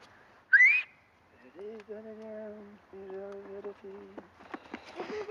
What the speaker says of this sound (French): Siffler.